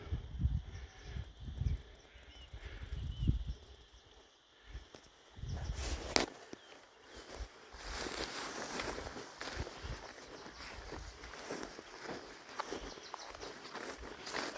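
Sheep startled on a trail beside the Mavora River in early morning shade, their hooves scrambling over the ground in a quick, uneven patter of running steps, moderately near and gradually settling into steady rustling movement.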